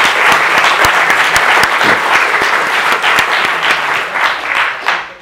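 Audience applause welcoming three speakers at a panel event on disinformation in British politics, a dense, steady wave of clapping that stays loud throughout and tapers slightly at the end.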